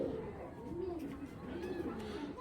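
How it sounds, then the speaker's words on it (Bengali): A pair of pigeons coo softly and repeatedly at close range, their low rolling calls running under faint background noise. "তো দেখেন মাশাআল্লাহ খুব সুন্দর দুইটা কবুতর।"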